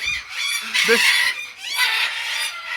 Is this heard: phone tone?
no